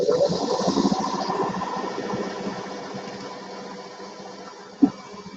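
A sewing machine stitches a quilt seam with a steady, close mechanical whir and fast needle rhythm that slows and fades toward the end, ending in a single sharp click, with no voices.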